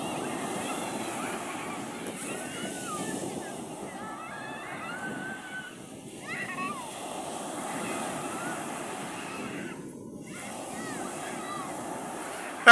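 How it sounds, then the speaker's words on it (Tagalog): Strong ocean waves roll and wash in a steady, low rumbling surge with wind buffeting the microphone, voices murmuring faintly beneath the sea noise. "Lakas ng alon."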